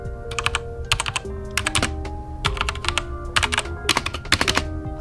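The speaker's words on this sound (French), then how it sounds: "Alors c'est un clavier mécanique," Fast typing on a mechanical computer keyboard: close, crisp clusters of clacking keystrokes come in irregular bursts with brief pauses, loud and alone over a faint room hum.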